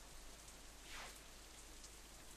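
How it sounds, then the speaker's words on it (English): Rain sound effect from the visual novel game Katawa Shoujo, a steady soft patter filling the clip at low level with one slightly louder swell near the middle, no voices. "I feel the first drop of rain land on the back of my hand"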